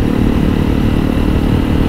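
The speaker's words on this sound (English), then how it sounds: "I can still hear the engine whining a lot" Honda CRF300L motorcycle with a Yoshimura RS-4 full exhaust, a loud, steady engine drone with a buzzing whine and rough low rumble heard up close while riding.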